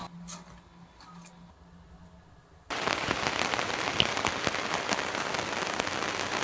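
Rain falls outside a camper van: a faint hiss at first, then a sudden, loud, dense patter of drops on the roof and surfaces that continues steadily to the end.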